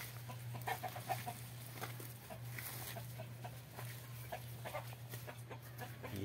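Clucking and squawks from a chicken being caught by an armadillo, fairly close, scattered over a steady low hum, with faint rustling and possible voices in the background.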